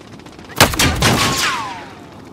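A single sharp gunshot bursts out in Call of Duty: Modern Warfare, loud and close, followed by a ringing tail and a descending whine that fades over about a second.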